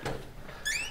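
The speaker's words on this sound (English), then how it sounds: "and open up the second door" Interior door opening at the back of a house leading into a garage, a quick soft clunk of the latch followed by a short high squeak of the hinge, close and fairly quiet.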